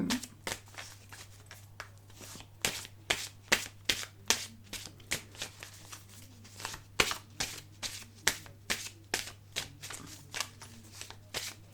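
Tarot cards shuffled by hand in a steady run of crisp riffling slaps and flicks, close and moderately loud, repeating for about twelve seconds over a low constant hum with no speech.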